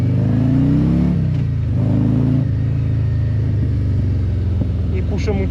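A Harley-Davidson motorcycle engine revs and pulls strongly from low, deep rumbling to a rising roar, loud and close, while a rider talks over it.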